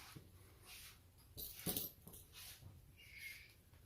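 Dog whimpering indoors in a room, a few faint soft whines and snuffles with a louder burst in the middle, quiet and close with no talking.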